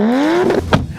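A performance car engine and exhaust, tied to a VW Mk8 Golf R, revs with a rising tone that climbs for half a second, then a sharp burst of exhaust noise follows, loud and close.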